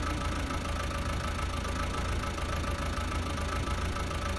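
A tractor engine idles steadily in Farming Simulator 19 on a snowy winter farm, a continuous low mechanical hum with a faint knocking texture running unbroken throughout, with no talking.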